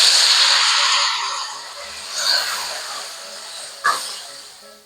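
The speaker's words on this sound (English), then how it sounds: "now I'm adding the white wine" White wine poured into a hot pan of shrimp for a Spanish dish, giving a loud hissing sizzle that fades over a few seconds, with a short sharp burst near the end.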